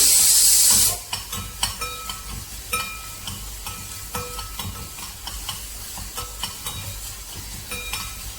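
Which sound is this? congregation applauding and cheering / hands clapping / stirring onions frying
stirring onions frying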